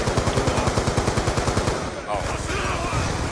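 Rapid automatic gunfire rattles in a Black Ops 2 one-flag capture-the-flag match: dense repeated bursts for about two seconds, a brief lull, then more shots with faint voices mixed in.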